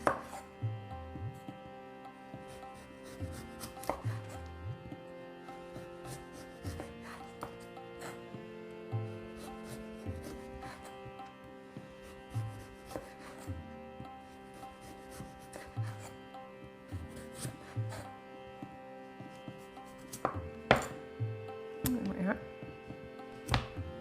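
A knife thinly slicing kohlrabi on a cutting board, light repeated cutting strokes in irregular bursts, close and fairly quiet, with a low hum running under them.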